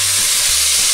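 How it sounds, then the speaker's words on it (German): Port wine poured into a hot pan for a lamb rosemary sauce, giving one second of loud, steady, close sizzling and hissing with no talk. "Und ich lösche jetzt mit Portwein ab."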